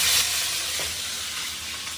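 Kebabs frying in a pan, a loud close hissing sizzle that holds steady for a couple of seconds with no talk over it.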